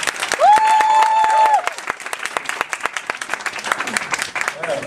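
Audience applause and cheering for a contestant at a 2012 recitation competition, a dense burst of clapping from a crowd that starts loud and stays steady, with a held whistle or voice note near the start.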